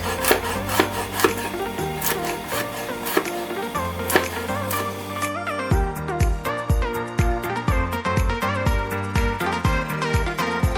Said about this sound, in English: I'm going to chop off my dry fruits.